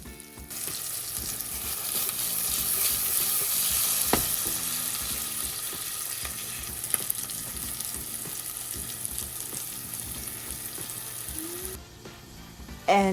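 Steak pie filling frying in a pan while garlic powder, onion powder, mixed herbs, fresh thyme and rosemary are stirred in: a loud, steady sizzle with scattered scraping spoon clicks, a sharp knock near the middle and a brief clatter at the end.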